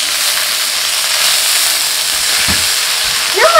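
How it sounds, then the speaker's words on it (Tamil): Urad dal and mustard seeds fry in hot oil in a home kitchen, giving a steady, close sizzle and hiss throughout, with a few faint clinks near the end. "உளுந்து கடுகு இதெல்லாம் போட்டோம்னா ஓடி போயிடுவாங்க."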